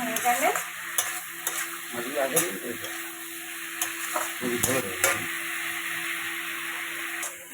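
Koi fish curry with cauliflower sautéing in a pan, a spatula stirring in irregular scrapes over a faint steady sizzle, close up, with no talking.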